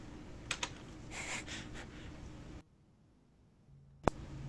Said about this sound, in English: Listen to my typing.